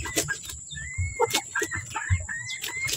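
Chickens cluck in short, scattered bursts close by, with a faint steady insect-like whine and some rustling underneath.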